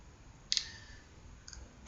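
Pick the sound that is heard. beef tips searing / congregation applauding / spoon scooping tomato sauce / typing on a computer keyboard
typing on a computer keyboard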